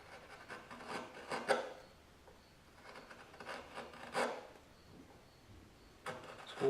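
Ridges being hand carved into the underside of a wooden cutting board, with close rasping strokes in repeated bursts and short pauses between passes.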